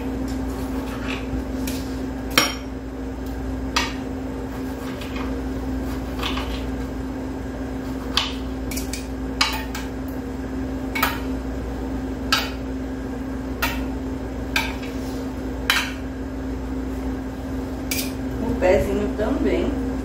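Firm, hard smoked sausage is chopped with a knife on a board in sharp, evenly spaced knocks over a low steady kitchen hum, with no talking.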